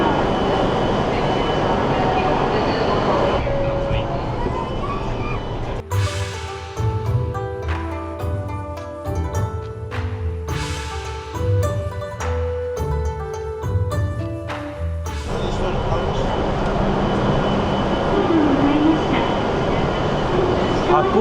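Steady, loud cabin rumble and rushing air inside a Japanese Shinkansen bullet train running at 320 km/h; a stretch of music or chime tones plays over the hum midway, with the roar continuing alone before and after.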